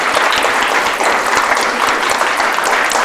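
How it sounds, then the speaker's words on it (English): An audience applauds panelists at the close of a local news discussion event, a dense, loud, steady burst of clapping filling the room for a few seconds with no speech. "can we give a round of applause to these panelists?"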